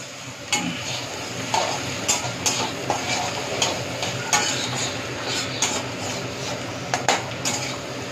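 Ginger being stirred in a frying pan, a spatula clinking and scraping against the metal in a regular rhythm of sharp strikes over a low sizzle, close and fairly loud with no talking.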